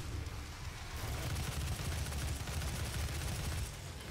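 Rapid gunfire in the Doom video game: a dense, continuous barrage of overlapping shots at a steady, fairly quiet level throughout, with no talking.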